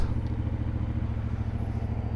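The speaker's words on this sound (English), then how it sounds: "The exhaust sounds good." Steady engine drone from a CFMoto 450 MT motorcycle exhaust, a low, even rumble with a continuous pulsing throb heard close up, running without a break and with no speech over it.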